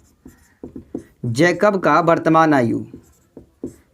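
Faint scratches of a pen writing on paper while solving a class 10 maths problem, heard as short strokes around someone speaking Hindi.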